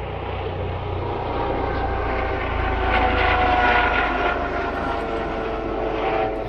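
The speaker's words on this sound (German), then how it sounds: "Hubschrauber." A helicopter passes overhead outdoors in woodland, its steady engine drone and rotor noise swelling slightly toward the middle before easing off, heard alone without talk.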